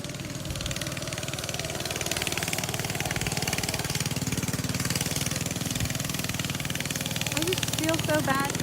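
A Kandy Rat go kart engine running while driving, a steady buzzing drone with rapid mechanical pulsing that holds throughout and rises slightly in pitch toward the end.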